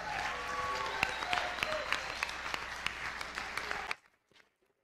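Audience applause at a high school talent show fills the space with steady dense clapping and a few louder claps, then cuts off abruptly near the end, leaving near silence.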